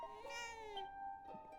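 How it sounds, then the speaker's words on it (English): A cat meows in the Dragon Quest VII: Reimagined video game, one drawn-out, slightly rising and falling call followed by a shorter second mew, clear and close with no talking. "No, you're just a cat."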